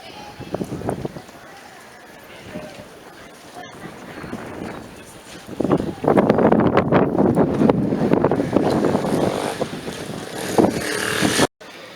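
A tender boat from a large cruise ship motors across the old harbour at St Tropez. Its engine is a distant, steady drone under wind buffeting on the microphone and general harbour ambience.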